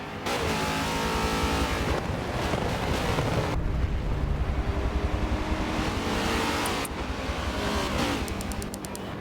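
Race cars in a GT championship round at the Nurburgring GP circuit in a video game, loud engines roaring and revving continuously with gear shifts and passing cars, filling the whole stretch without voices.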